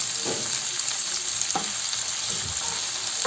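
Onion and peppers fry in a pan with a steady broad sizzle and a few stirring scrapes, close and continuous without talk.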